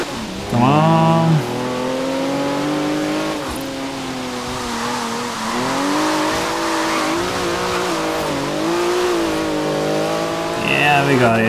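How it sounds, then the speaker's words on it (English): A car engine in Forza Horizon 3 revving through a throttle downshift, the pitch sweeping up and down in sustained harmonic drones with brief tire squeal, loud and close, with a voice talking over it. "Throttle downshift there."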